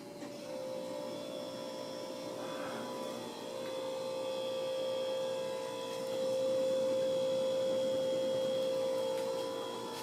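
A Miami Carey (Evergo) Banana Fan, model CF-952, runs at high speed with a smooth, steady whir and a faint tonal hum, no bearing rattle, the airflow swelling slightly partway through, with no talking.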